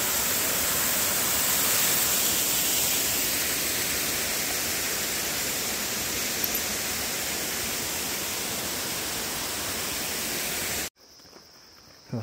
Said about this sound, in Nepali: झर्ना आएको छ।